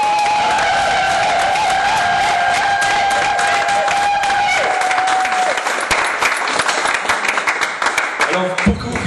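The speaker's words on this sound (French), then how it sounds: "Est-ce qu'on peut applaudir nos mains?" Guests at a Congolese wedding ceremony break into loud, sustained applause, dense clapping from many hands nearby with scattered cheers and whistles, thinning slightly toward the end.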